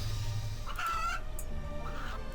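A chicken in the video game RuneScape 3 gives a few short clucks and a drawn-out squawk, close and clear over a low steady background hum.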